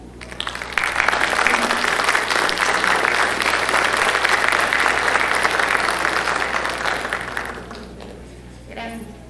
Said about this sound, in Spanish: Le damos un aplauso al doctor.